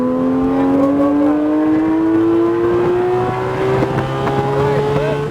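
Porsche GT3 RS engine on a road course at MIS, revving steadily upward in pitch as the car accelerates, loud and continuous from start to finish, with an instructor's voice coaching over it.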